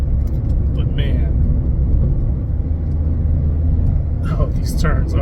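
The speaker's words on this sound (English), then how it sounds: "Do a little bit of braking and then accelerate through the apex." A Mazda MX-5 Miata rental drives through winding turns with braking and acceleration, its engine and road rumble a steady low drone inside the cabin while someone talks over it.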